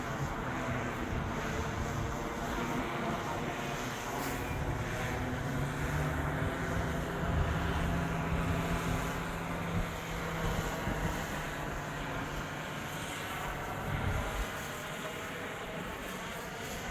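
An Amazon delivery drone flies in to land over the old Pontiac Silverdome site, a steady droning buzz with layered tones that swells slightly as it nears, heard outdoors with wind noise.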